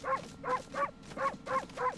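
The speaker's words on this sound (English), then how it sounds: "Now I'm gonna bark, make sure no one sleeps." Amaterasu, the white wolf of the Okami video game, barks five times in an even, quick rhythm, each yelp bright and clear with no talk over it.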